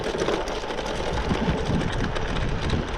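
A Swagtron EB7 Plus electric bike rides over dirt, its motor whining steadily beneath rough crunching and rattling of tires and frame, close and continuous.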